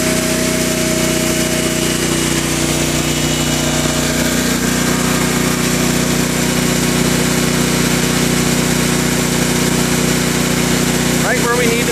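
A Generac 7000EXL tri-fuel generator engine runs steadily and loudly for the whole stretch, its constant mechanical drone briefly shifting in tone as the load is set low, with a voice speaking over it.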